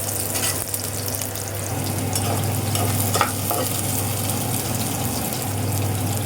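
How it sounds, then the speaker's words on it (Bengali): Steady, close sizzle of onions and garlic frying in hot oil, continuous throughout, with a low hum running underneath. "একটু ভাজা হোক"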